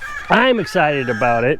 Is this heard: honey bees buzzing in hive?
no